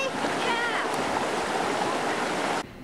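Water flowing in a local stream, a steady broadband rush filling the clip at close range, cutting off abruptly near the end.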